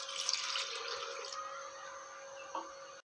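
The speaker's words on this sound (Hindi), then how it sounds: "इसमें हम पानी भी डाल देंगे।" Water pours into the jar of a juicer-grinder holding tomatoes for a fish masala, a close hissing stream that fades after a second, followed by a faint splash.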